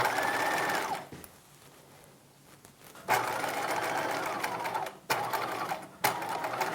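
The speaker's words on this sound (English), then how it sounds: "I'm going to back stitch, and then I'm going to continue from there" Sewing machine stitching a seam on a 1950s Lamour halter dress circle skirt, running in steady close bursts with a quieter pause while backstitching, then several short runs.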